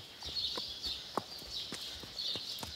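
Horse hooves clip-clop at a steady walking pace, each step a distinct, fairly close knock, over a constant high-pitched whine of insects or birds in the background.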